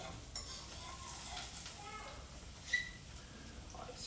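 Leek with orange and carrot cream finishes cooking in a pan, giving a soft sizzle with light stirring and a couple of brief utensil clicks, quiet and close.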